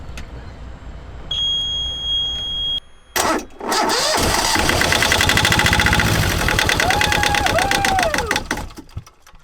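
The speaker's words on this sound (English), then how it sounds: "Hopefully it starts and we didn't destroy our engine winterizing." A sailboat engine cranks and catches, then runs steadily with a loud, rumbling idle for several seconds before cutting off; a high electronic beep sounds briefly beforehand.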